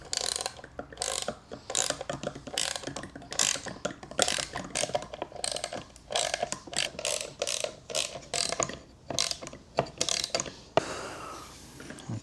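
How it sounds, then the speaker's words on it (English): Rapid ratchet clicking from a wrench tightening bolts on a homemade mold press, in dense repeated bursts close to the mic, with a brief change in texture near the end. "take a ratchet"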